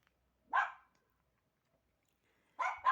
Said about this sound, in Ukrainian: Нюша, чого ти гавкаєш?